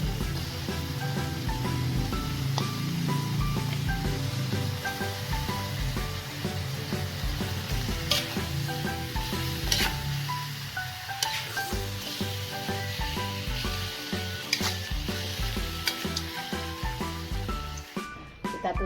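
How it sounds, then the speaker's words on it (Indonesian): Chicken sautés in a pan for Minangkabau gulai kurma, a continuous close sizzle with occasional stirring knocks, heard under steady tonal background music. "Ayamnya juga ditumis ya"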